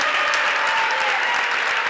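Loud, dense applause from a crowd honors the second-place women's futsal team, Futsal Cornedo, at an award ceremony on the court, a continuous clatter of clapping throughout.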